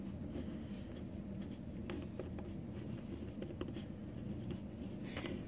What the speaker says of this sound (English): you're going to write elimination.